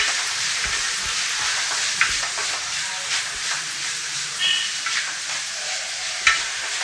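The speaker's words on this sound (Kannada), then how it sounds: "ಸ್ವಲ್ಪ ಉಪ್ಪನ್ನ ಹಾಕ್ಕೊಳ್ಳೋಣ ಈರುಳ್ಳಿ ಬೇಗ ಫ್ರೈ ಆಗುತ್ತೆ" Onions fry in hot oil with salt, giving a steady broad sizzle with occasional scrapes and clinks of a spatula against the pan.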